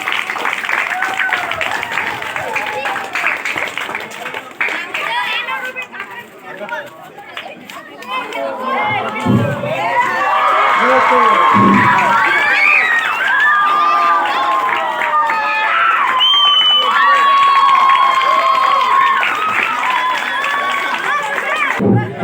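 Crowd of children and adults clapping and cheering during a game, noisy and busy, with shouting voices and talk running over the applause throughout.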